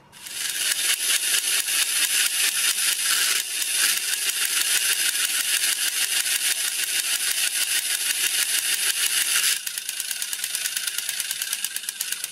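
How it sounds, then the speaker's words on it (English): A refurbished TOMY Space Turbo mechanical toy grinds its gears in a loud, steady, buzzing rattle that runs without pause, shifting slightly in tone partway through; no talking. "orbiting gear is going to be stopped by this thing. And you're going to get that grinding sound."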